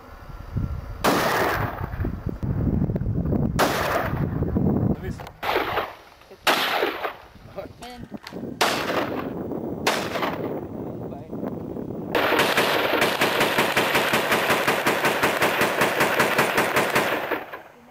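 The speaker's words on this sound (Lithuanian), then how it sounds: "Galiu paleisti porą šūvių" Loud, close gunfire rings out at an American shooting range, with bursts of rapid automatic shots, single heavy cracks and echoing tails, ending in a long fast-firing machine-gun stream, while a voice speaks briefly.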